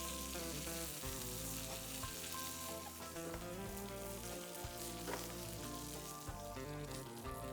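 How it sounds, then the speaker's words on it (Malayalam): Curry leaves fry in hot coconut oil with a busy, crackling sizzle that runs continuously, with soft musical tones underneath. "ഓയിൽ ഹീറ്റാക്കുക, 2 കഷ്ണം കരിവേപ്പില ഇടുക"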